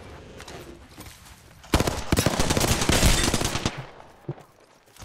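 Rapid automatic gunfire bursts from an Apex Legends firefight, loud and dense for a few seconds with scattered single shots before and after.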